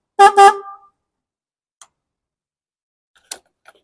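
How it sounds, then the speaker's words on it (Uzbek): Two quick blasts from the horn of a petrol cargo motorcycle sound loud and close, followed by a few faint clicks in an otherwise quiet background. "signallari ham o'zgacha signal"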